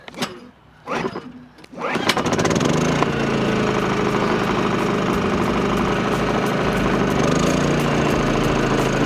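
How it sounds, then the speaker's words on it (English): A portable generator at an RV campsite, pulled over a couple of times before catching, then settling into a loud, steady mid-pitched engine drone that runs on unbroken, close by. "Say generator! Generator."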